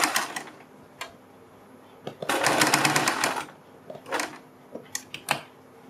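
A sewing machine runs in short rattling bursts, stitching a neck strip onto a kurti, with one longer steady run in the middle and quick clicks and handling noises between the bursts.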